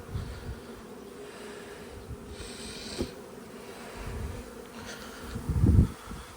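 Steady insect buzzing from many honeybees around a hive fills the clip, with a louder swell near the end as one passes close to the microphone.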